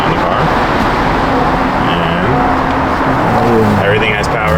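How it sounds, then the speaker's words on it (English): A Honda Accord is started, giving a loud, continuous engine and roadway-like rumble close by, with brief tonal chirps layered over it. "Now we're just gonna test everything by just turning on the car."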